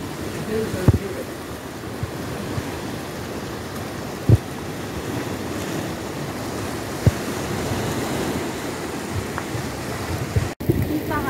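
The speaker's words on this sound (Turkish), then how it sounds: "Koru Denizi'ne geldik ama çok güzel bir yağmur yağıyor." Rain and breaking sea waves on the Black Sea shore form a steady close wash with wind buffeting the microphone and a few sharp knocks.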